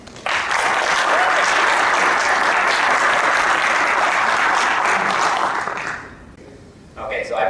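Sustained audience applause welcoming Ben, a speaker at the Skeptics of Oz 2013 event, loud and even for about six seconds, then fading out before a voice begins speaking.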